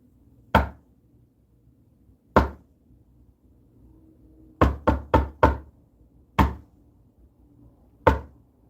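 Sharp, loud knocks during a paranormal investigation in a house: a single rap, a pause, another, then a quick burst of four, followed by two more spaced blows, each ringing briefly against a quiet room.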